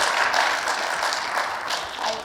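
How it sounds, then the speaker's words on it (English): An audience applauds a guest named Adam at a Toledo Museum of Art talk, a steady dense wash of clapping throughout with no pauses. "please join me in giving Adam a round of applause"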